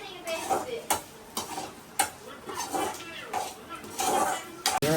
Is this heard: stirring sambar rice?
yes